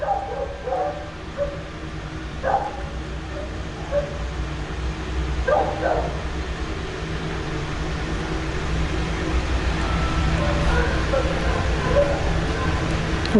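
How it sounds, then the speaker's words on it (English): Dogs bark in scattered bursts somewhere in the background, muffled and distant beneath a steady hum of noise. "The neighbor's dogs are so angry."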